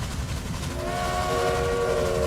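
Train whistle in the railway simulation game Railway Empire: a steady multi-tone whistle starts about a second in and holds to the end over a continuous rumbling train background, no voices.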